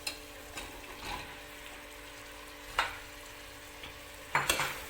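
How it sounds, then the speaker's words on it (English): Mushrooms cooking in a tomato masala give a quiet, steady sizzle and frying, broken by a few scraping stirs and faint clanks of a spoon against the pan. "Next we are going to add in the mushrooms."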